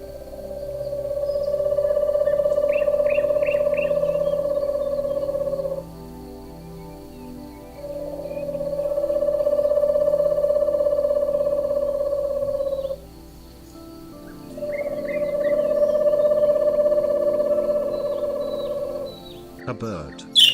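An owl gives three long, sustained hooting calls, each held for several seconds with short pauses between, loud and close against a faint background hum.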